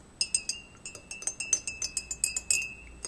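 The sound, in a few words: stirring saffron herbal tea in a glass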